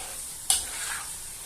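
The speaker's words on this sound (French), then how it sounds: "Et on va bien mélanger." A cream sauce in a hot pan gets a single quick stir, a brief scraping swish over a faint steady sizzle, close and fairly quiet.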